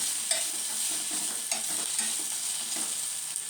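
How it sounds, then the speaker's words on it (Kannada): Ivy gourd (thondekai) frying in a little oil for a gravy, a steady close sizzle with soft spatula stirs scraping through it at intervals, no voices. "ಅದು ಸ್ವಲ್ಪ ಎಣ್ಣೆಯಲ್ಲಿ ಫ್ರೈ ಆಗ್ತಾಯಿದೆ"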